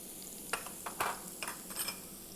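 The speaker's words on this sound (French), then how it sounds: "là-dedans on va faire déjà revenir nos échalotes" Shallots sautéing in olive oil and butter in a restaurant kitchen make a soft, steady sizzle, broken by a few light clinks and scrapes of stirring.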